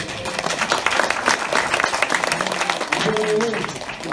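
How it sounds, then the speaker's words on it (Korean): Audience applause at a seed library association general meeting in Korea, following a vocal performance; dense steady clapping fills the hall throughout, with a voice talking over it near the end. "박수 한 번 더 주세요."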